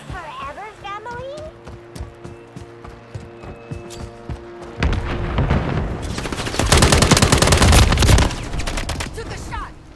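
Black Ops 6 beta firefight: rapid automatic gunfire builds into a loud, dense barrage of close bursts, with in-game voices shouting at the start.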